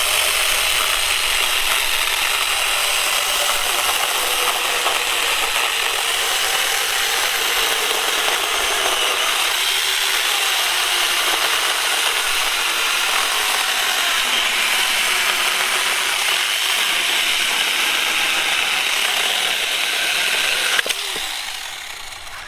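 A TomyVic 6-inch mini chainsaw runs steadily through a log with a loud, high, buzzing whine that holds constant for a long stretch, then drops off sharply near the end.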